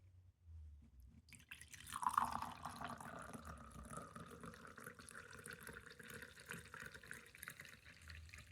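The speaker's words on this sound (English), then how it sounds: "I love the sound of a good pour" Chai poured from a teapot into a cup, a steady liquid stream that starts after a quiet second and runs continuously, close and moderately loud, with no voices.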